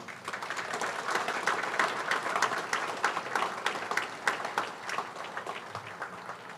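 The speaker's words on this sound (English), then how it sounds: "Please let us join together once again for a round of applause to the leadership of the Federated" Sustained applause from a crowd at an outdoor joint presidential inauguration ceremony for the Federated States of Micronesia, steady dense clapping at moderate distance throughout, with no speech over it.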